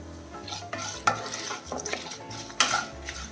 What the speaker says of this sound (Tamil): மல்லியும் கொஞ்சம் வறுபடணும். தனியாகவும் கொஞ்சம் வறுபடணும்.